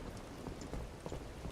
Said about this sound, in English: the ambience right now with the rain is really good